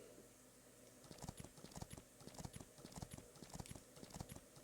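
Horse galloping in the Last Island of Survival survival game, a steady rapid clip-clop of hooves thudding in rhythm over a constant background hum with no talk.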